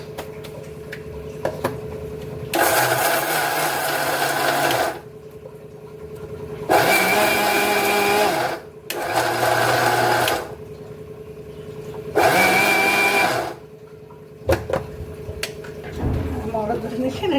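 Electric kitchen grinder whirring in four loud bursts of several seconds each, separated by short pauses, as powder with added turmeric is ground again.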